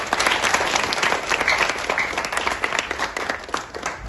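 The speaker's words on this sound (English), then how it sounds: "So give yourselves a round of applause." A crowd at a school ceremony in Ghana breaks into dense, sustained applause, many hands clapping loudly and close, tapering slightly toward the end.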